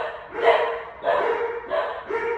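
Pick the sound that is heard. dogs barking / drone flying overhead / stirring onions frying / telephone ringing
dogs barking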